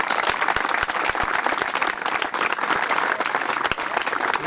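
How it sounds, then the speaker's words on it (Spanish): Crowd at the dedication of a children's rugby field claps in a steady, energetic round of applause, dense and close with crisp individual claps throughout. "Un fuerte aplauso."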